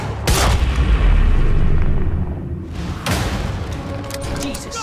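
Guns fire in the Quantum Break video game, with a sharp loud blast, a stretch of rumbling gunfire and commotion, then a second burst. Voices shout in the background.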